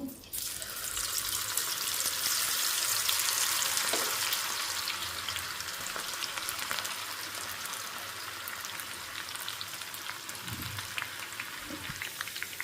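Cabbage pakoda deep frying in hot oil on a stove at low heat, giving a loud, dense, continuous sizzle that eases slightly after a few seconds and carries on steadily to the end, with no talking.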